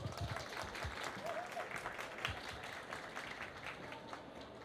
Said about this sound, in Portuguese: que recebe as nossas palmas.